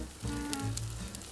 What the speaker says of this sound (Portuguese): Mais uma leve tostadinha nessa cebola aqui.